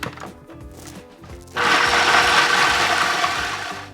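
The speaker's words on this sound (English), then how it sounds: "you wanna get out your food processor, and we're going to add 5 ounces of walnuts. And we're going to grind them until they're finely ground." A food processor grinds 5 ounces of walnuts into fine meal: after a quieter mechanical start, a loud, steady whirring roar with rattling nuts kicks in and holds to the end, alone without talk.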